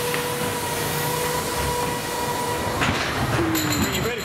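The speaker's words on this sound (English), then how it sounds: "I like how there's a few little drops on the inside of this ghost train." A ghost train ride car at Great Yarmouth Pleasure Beach rumbles and clatters along rails over small drops with a steady metallic drone, wheels squealing briefly near the end.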